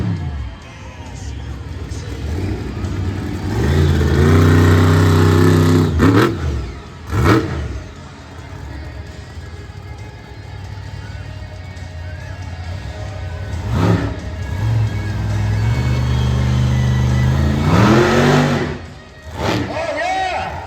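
Monster truck Axe, driven by Joe Foley, revs its engine loudly at the Summer Smash monster truck show in Evansville, Indiana, rising in repeated roaring bursts with an announcer talking over it and crowd noise behind.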